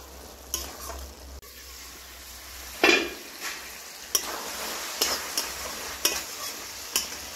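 Green chilies go into bottle gourd cooking in a pan for a lau chingri dish, with a low sizzle and repeated scraping, stirring clinks of a spatula against the pan, close and alone without talk.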